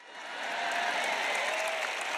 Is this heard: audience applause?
yes